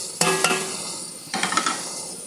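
Spices being stirred into chicken majboos in a pan: two short bursts of scraping and clinking against the pan over a soft sizzle.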